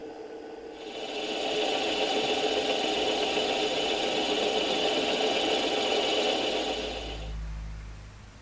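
A metal lathe turns a 16.5mm step onto the end of a bar, giving a steady whirring cut with a high machining tone that starts after a second, holds, then winds down.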